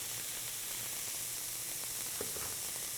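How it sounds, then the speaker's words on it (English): Garlic sautés in a pan, giving a steady, faint broadband sizzle and hiss throughout with a few small pops and no talking. "So while that is sauteing, we're gonna get our jalapeno pepper going."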